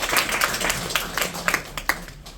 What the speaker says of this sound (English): I think give Wellspa a round of applause.